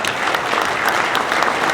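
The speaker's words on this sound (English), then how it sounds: "if you want to applause it, go ahead" An audience at a cattle industry summit on backgrounding, feedyards and harvesting breaks into steady applause, a dense wash of many hands clapping evenly from start to finish.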